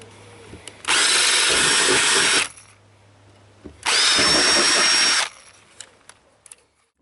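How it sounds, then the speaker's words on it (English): Power drill enlarging holes in the metal body of a Citroen Relay van, two loud sustained bursts of drilling about a second and a half each, separated by a pause, close up. "just going up 1mm at a time just to enlarge these holes out for these small ones"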